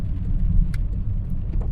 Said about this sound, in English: it's quite noisy, being such a thin car